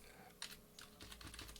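Quiet keystrokes clatter on a computer keyboard used to control an HP ESA-L1500A spectrum analyzer: a few soft, close clicks in a short irregular burst.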